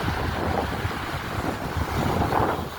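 Waves of the Arabian Sea wash over a rocky beach at Pondicherry, a dense, continuous surging roar mixed with heavy wind buffeting the microphone, loud and close.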